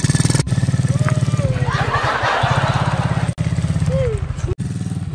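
A motorcycle engine runs steadily with a fast pulsing putter close by during a riding lesson, while people talk and call out over it.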